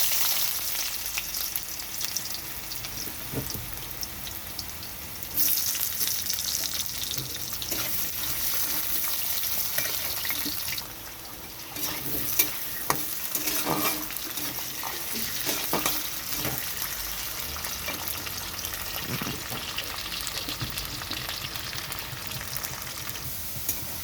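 Potatoes and garlic fry in oil left from frying bata fish, giving a steady close sizzle with a few sharper crackles and stirring clatters partway through.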